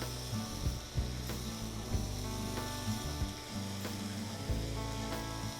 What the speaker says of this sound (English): So let me go ahead and get the bacon going here.